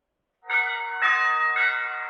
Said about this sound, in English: So maybe you'll type in church bell because you want a church bell.